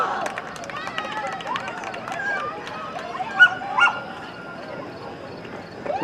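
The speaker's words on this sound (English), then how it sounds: "We do have some cheers from the dog here." At a girls' varsity ultimate frisbee game, a dog barks and yips in short excited bursts at moderate distance, with players' voices and a commentator talking over the field.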